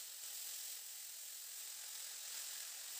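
Chopped radish greens hitting hot mustard oil tempered with black cumin seeds and dried red chillies, giving a steady, even, close sizzle that holds without a break and with no talking over it.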